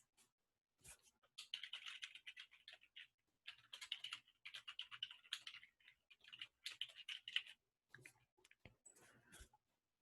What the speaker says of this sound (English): I'm typing into the search bar